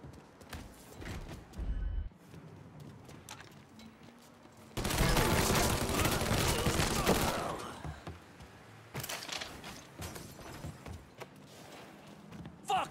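Gunfire in Mafia 3: scattered single shots, then a long dense burst of rapid shooting that dominates for a few seconds before fading back to sporadic cracks and ambient noise.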